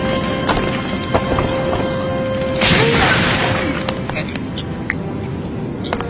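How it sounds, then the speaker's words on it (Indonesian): In the One Piece anime, Arlong's headquarters collapses with a crashing, rumbling burst lasting under a second, partway through. It sits among scattered hits and a constant noise bed under narration. "Hancur lebur, markas Arlong pun rubuh."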